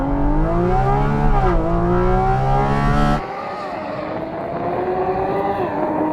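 A Porsche GT3 RS accelerating hard off the line in a drag race, its engine note climbing through loud rising revs with a gear shift, then the roar abruptly dropping away as the car pulls into the distance.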